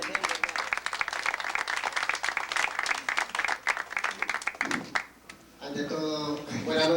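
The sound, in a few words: applause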